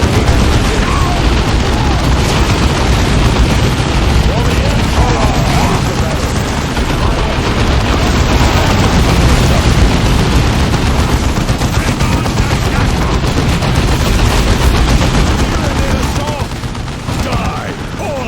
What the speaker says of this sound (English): Orcs, open fire!